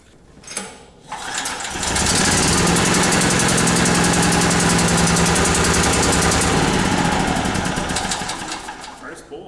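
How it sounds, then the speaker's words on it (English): A Corvette C6 V8 engine cranks and roars to life on first startup, then settles into a loud, steady idle with a rapid rumbling throb. "We're about to fire this thing off. First startup."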